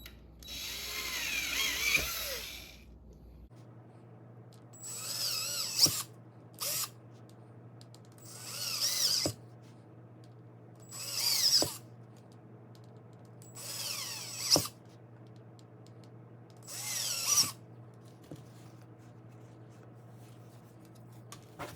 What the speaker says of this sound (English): now that we have each of those holes drilled out pretty crudely